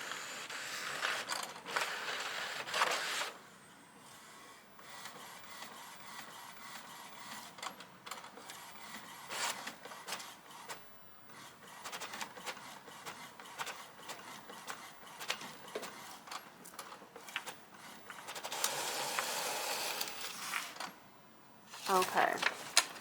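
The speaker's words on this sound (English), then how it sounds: "the tray comes out automatically, and it's gonna go ahead and do my print head for me" An Epson ET-8550 inkjet printer runs a nozzle check, with its tray extending automatically, producing close, intermittent mechanical whirring and shuttling passes, pauses and clicks, with bursts of louder motor activity.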